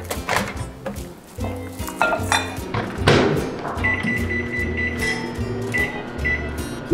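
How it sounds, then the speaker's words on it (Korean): A kitchen microwave oven runs with a low, steady hum, mixed with thunks of its door and nearby handling, plus a few short high beeps. "잘 섞였으면 다시 랩핑을 해서 전자레인지에 4분 돌려주시면 됩니다."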